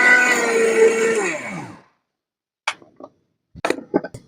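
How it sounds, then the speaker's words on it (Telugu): A mixer grinder grinding sugar and cardamom runs loudly with a steady whine for under two seconds, then winds down as the pitch drops. A few sharp clicks and knocks follow after a short silence. "పంచదార అయితే మిక్సీకి వేసుకోవాలి."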